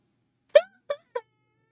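A cat meows three times in a row, with one longer cry followed by two shorter ones spaced about a third of a second apart, close to the microphone in a quiet room.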